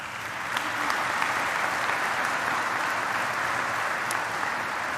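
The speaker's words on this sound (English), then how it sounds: "Let's give them another round of applause." Steady, dense applause from an audience at the grand opening of a bridge housing campus for chronically homeless people, sustained and even throughout with no one speaking over it.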